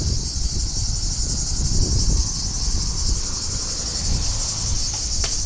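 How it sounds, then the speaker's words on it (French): Cicadas in the Aix-en-Provence area buzz in a loud, continuous, steady drone close by, with faint rustling beneath. "Il y avait tous les genres de cigales, toutes les espèces, les noms latins"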